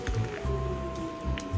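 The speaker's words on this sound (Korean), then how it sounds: "잘 끓여지고 있습니다. 보글보글." A pot of yukgaejang spicy beef soup with bean sprouts and dried radish greens simmers on the stove, soft wet bubbling pops recurring in small clusters, close and quiet under a faint steady hum.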